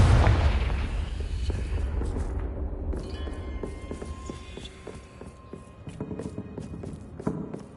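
The Confringo fire spell in the video game Hogwarts Legacy detonates in a loud, booming blast, then fades into a rumbling tail scattered with smaller crackling impacts and clattering debris.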